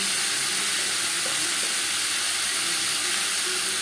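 Sliced tomatoes go into a pan of frying mutton and potatoes, and a steady, fairly loud sizzle and hiss of hot oil carries on without a break, with no voices over it.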